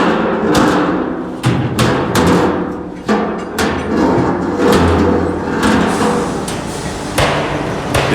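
Hammers strike reconditioned metal barrels in a barrel yard in Bangladesh, with loud, irregular clanging blows that overlap and ring out, several workers pounding at once amid general yard noise.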